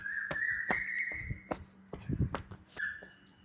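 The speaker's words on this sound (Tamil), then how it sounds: "குயில் சத்தம்லாம் நல்லா தான் இருக்குது." An Asian koel calls in a park in the early morning, repeated clear whistled notes at moderate distance, interrupted by footsteps and small rustles.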